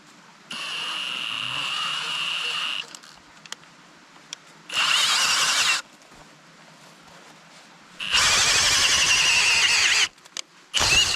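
A power drill whirs in three separate bursts with pauses between, loud and close, with a high whining squeal, outdoors while building a natural shelter.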